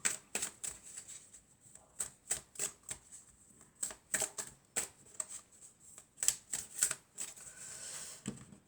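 Oracle cards from a triad deck are shuffled by hand in a quiet room, giving quick rhythmic papery riffles and taps that repeat close up for several seconds.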